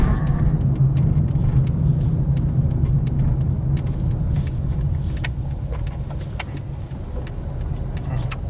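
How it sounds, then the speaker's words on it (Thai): A car driven slowly into a wide parking lot in California by a learner driver, its engine a steady low rumble heard from inside the cabin, with faint scattered clicks and no talk. "เราก็จะลอง เข้าไปใน ร้านจอดรถนะคะ แล้วก็ไปหัดจอดรถกันนะคะ"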